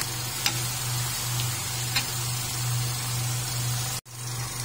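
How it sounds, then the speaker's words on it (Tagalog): Chicken pieces fry and are stirred in oyster sauce and soy sauce, a steady close sizzle with a faint scrape of the utensil now and then, ending in a brief sharp knock. "Haluin lang natin siya ng haluin hanggang siya ay maging crispy dyan."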